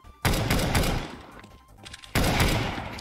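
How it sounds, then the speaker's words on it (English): Two sharp pistol shots in CS:GO, loud and close, the first at the start and the second about two seconds later, each with a short decaying tail. "It's just a pistol shot."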